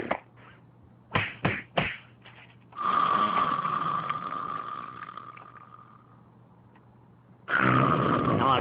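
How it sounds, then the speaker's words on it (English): A cartoon character snores loudly: a few short snorts and knocks, then a long rumbling inhale with a droning tone that fades out, and a final burst of snoring. "Come on, you're snoring."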